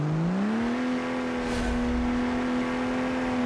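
A drag-built car engine in BeamNG holds a steady high-revving drone under load during a drag run, loud and continuous with a brief rising pitch at the start.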